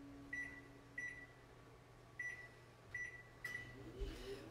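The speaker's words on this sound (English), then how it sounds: "In the meantime, I'm gonna put this one in the microwave." Low steady hum of a running microwave oven, with a series of short high beeps and a small clatter near the end, fairly close and with no talk.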